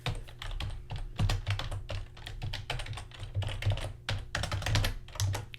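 Rapid typing on a computer keyboard while writing game code, a dense run of close, crisp key clicks in quick uneven bursts with brief pauses, and no voices.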